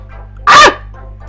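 A single short, loud dog bark from the Undertale video game, sounding alone over quiet game music.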